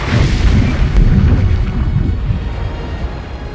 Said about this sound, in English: The ancient cruiser didn't just explode